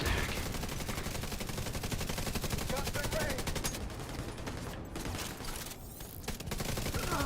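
Rapid automatic gunfire rattles continuously in a video game firefight against marauders, a dense, loud stream of shots that runs almost unbroken with only brief dips.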